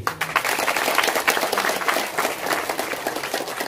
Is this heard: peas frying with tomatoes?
no